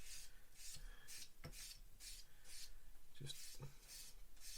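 A sanding sponge is rubbed over a fine mold seam on a 1/35 Takom AH-64D Apache plastic model kit part, giving a series of soft, rhythmic scratchy swipes at close range.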